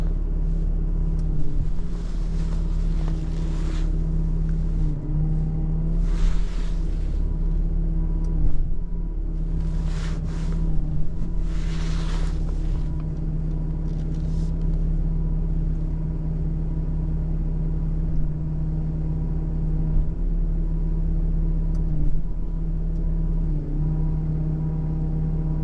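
A tow truck's engine and hydraulic lift drone steadily while raising the back end of a rear-wheel-drive 1997 Dodge Ram van, a deep continuous hum with intermittent hissy bursts and faint clanks.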